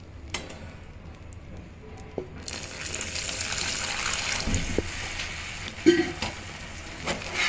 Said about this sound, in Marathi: थोडंसं ह्याच्यामध्ये आपण पाणी टाकू.